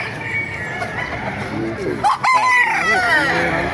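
A Claret gamefowl rooster crows loudly and close by at a busy chicken market. Other fowl cluck and people chatter in the background.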